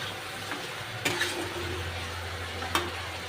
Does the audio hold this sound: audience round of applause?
no